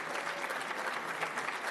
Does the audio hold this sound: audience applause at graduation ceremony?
yes